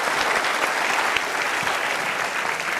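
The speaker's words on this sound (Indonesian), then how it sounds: "Yuk kita berikan tepuk tangan." Dense, loud audience applause at an Indonesian motivational talk by Mario Teguh, continuous clapping from a large crowd with no voices over it.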